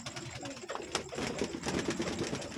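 Pigeons, including fancy Jacobin pigeons, cooing in a backyard hobby loft: low, soft, repeated coos that overlap steadily at close range, with faint rustling mixed in.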